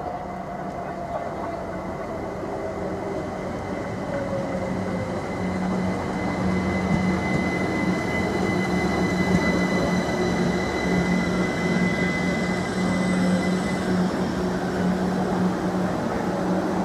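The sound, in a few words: train arriving at Ely station platform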